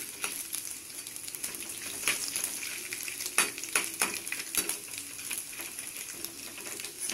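Urad dal and chana dal roasting in hot oil with mustard seeds, a steady close sizzle and crackle broken by sharp pops and occasional clinks of a spoon stirring the pan.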